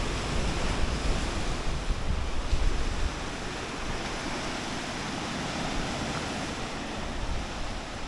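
Ocean surf breaks steadily along the rugged Baja California coastline, a broad continuous wash with wind buffeting the microphone, slightly louder in the first few seconds and then evenly sustained.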